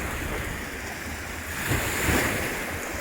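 Sea waves wash onto the beach at Burgas in Bulgaria, a broad steady surf roar that swells near the middle, mixed with wind buffeting the microphone.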